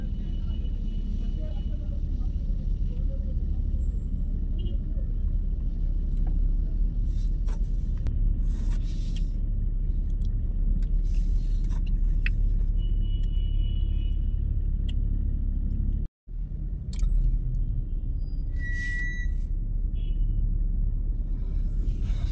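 A car drives through road traffic at night in Riyadh, a steady low engine and road rumble filling the whole stretch, with a brief drop to near silence partway and faint higher clicks above the drone.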